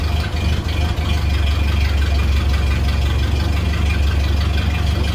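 A Ford Model A engine idles steadily on a cold morning, its low, even chugging rumble close and continuous throughout with no talk.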